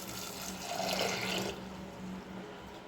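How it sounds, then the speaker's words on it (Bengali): Water is poured into lentils before boiling them for dal in a pressure cooker, a steady splashing stream lasting a few seconds that grows a little louder midway and then settles into a softer trickle. "তো পরিমাণ মতো আমি এখানে জল দিয়ে দিচ্ছি।"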